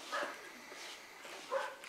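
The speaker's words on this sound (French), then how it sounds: "il y a des chiens qui aboient" Dogs barking in the distance, with two faint bursts of barks about a second and a half apart over a quiet outdoor background.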